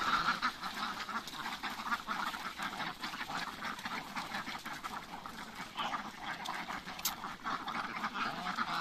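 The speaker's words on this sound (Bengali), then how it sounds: "দেশি হাঁস, আপনারা এরকম একটা হাঁসের খামার করতে পারেন।" Native village ducks crowd a fenced farm, quacking in a dense, continuous chorus that rises and falls, close by and fairly loud, with no talking.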